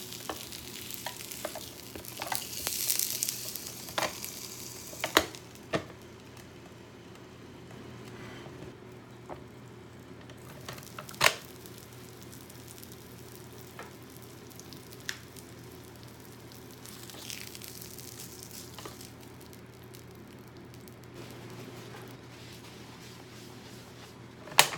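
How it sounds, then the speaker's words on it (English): Pancakes sizzle quietly in a pan, a soft continuous crackle with occasional scraping and clicks of utensils. "Okay, I can hear it sizzling"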